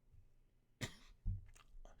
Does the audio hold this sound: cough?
yes